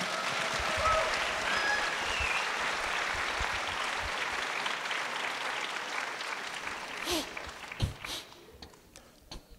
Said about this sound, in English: A big applause for Slavo.